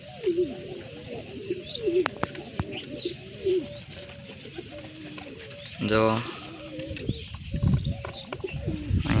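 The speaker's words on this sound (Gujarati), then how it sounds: "આ આપણા પલપલ કબૂતરનું બચ્ચું છે." Pigeon coos and soft calls from a pet pigeon's chick and nearby adults, repeated close up under someone speaking, with a brief louder burst midway.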